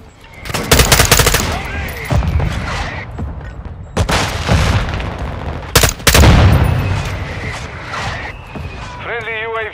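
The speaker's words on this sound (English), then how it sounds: "Mortar strike on the way." Mortar strike in Call of Duty: Modern Warfare II, loud bursts of rapid gunfire and heavy booming impacts rolling across a battlefield, with a short electronic warble near the end.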